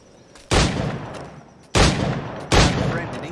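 Three loud, close firearm shots in Assassin's Creed IV Black Flag, widely spaced, each a sharp blast with a short decaying tail.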